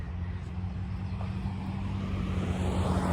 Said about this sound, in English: So you'll hear traffic behind me